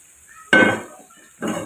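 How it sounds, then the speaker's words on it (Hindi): Fried okra tipped into a pan of spice masala and stirred, two short scraping, sizzling bursts of ladle against pan, close up with brief quiet between them. "ये जो हमने भिंडी फ्राई की थी ये हम इस मसाले में शामिल कर देंगे बिल्कुल इस तरह से"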